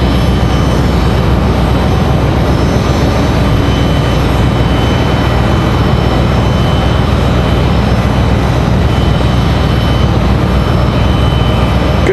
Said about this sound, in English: Looks like we've got an American 737 pushed back, ready to go.